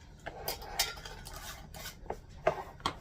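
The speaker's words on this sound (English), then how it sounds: "And then I just put the lids on them." Plastic lids snapping and clattering onto food prep containers, a series of short sharp clicks and knocks at close range over about three seconds, with no talking.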